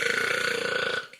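A long, drawn-out burp, loud and close, rumbling steadily for about a second before trailing off into a short breathy tail, with no talking over it.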